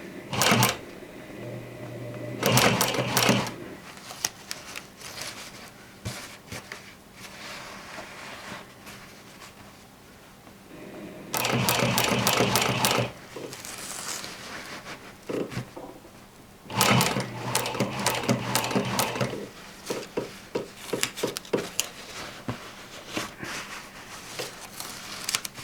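A sewing machine stitches denim jeans in several bursts of rapid needle chatter, each lasting a few seconds, separated by quiet pauses and small handling clicks.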